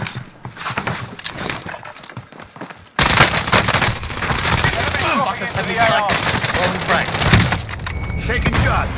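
Gunfire in Call of Duty: Modern Warfare, bursts of shots that rise loud from about three seconds in and continue densely through the rest, with faint talk underneath earlier.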